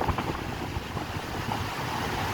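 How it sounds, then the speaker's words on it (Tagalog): Strong wind buffeting the microphone on a dolomite sand beach, a continuous rough roar with gusty low rumbles and no voices. "Lakas pa ng hangin."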